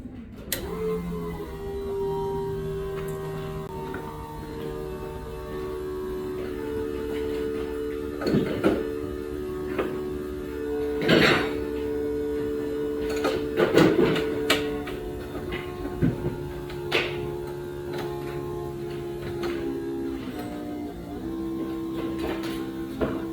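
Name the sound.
fuel pump priming on Holley EFI system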